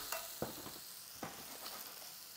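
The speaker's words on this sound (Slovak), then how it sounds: "A zemiaky tiež posypem tymianom. Premiešame." Potatoes sprinkled with dried thyme being stirred in a frying pan, with a few quiet scraping strokes over a soft, steady sizzle.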